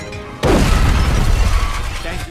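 A bomb explodes on a garbage truck in the Sonic the Hedgehog video game: a sudden loud boom after a short quiet lead-in, then a rumbling decay.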